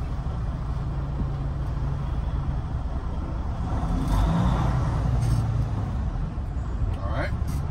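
Truck cab interior during a service brake check, engine rumbling low and steady as the vehicle creeps forward at about 5 mph, with a slight rise in noise midway and a voice talking over it.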